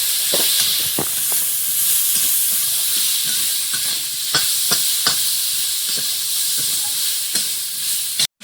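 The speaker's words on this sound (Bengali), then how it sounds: "জল দিয়েছি একটু, মশলাটা কষাতে হবে।" Spice masala is sautéed in a pan with a little added water, producing a continuous steamy hiss and sizzle broken by intermittent spoon scrapes and taps, close up and without speech.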